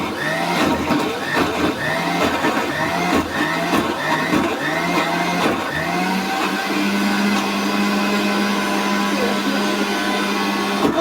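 An electric mixer grinder whirs loudly while grinding chutney with salt, its motor pulsing in short bursts before settling into a steady continuous drone.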